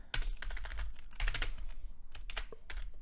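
Typing code on a computer keyboard while writing a Unity 3D script, with quick bursts of close clicky keystrokes separated by short pauses.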